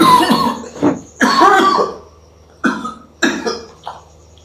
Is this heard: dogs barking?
no